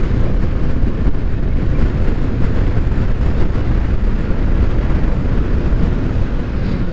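A Kawasaki Ninja 650 KRT Edition motorcycle, a 2020 model, rides along with a steady, loud low rumble heavy with wind roar; no speech is audible.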